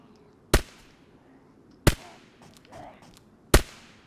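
Three sharp, evenly spaced shots from a suppressed weapon in the video game DayZ, each a short loud crack with a brief tail, separated by quiet background.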